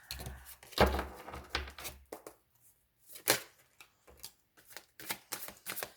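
Tarot cards being shuffled in quick, dry bursts of riffling and slapping, each flurry separated by short pauses, fairly close and clear with no voices.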